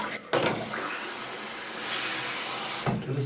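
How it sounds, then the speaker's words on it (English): Wash water poured out of a film developing tank during an archival rinse, a steady splashing hiss that starts abruptly after a brief pause and stops sharply near the end, close and fairly quiet. "pour out the water,"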